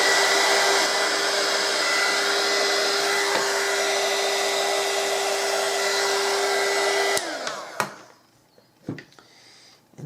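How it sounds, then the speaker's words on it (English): A heat gun blows steadily while embossing Christmas tags, a loud continuous whoosh close up for about seven seconds before it switches off, followed by a few soft handling knocks. "Turn the heat gun back on."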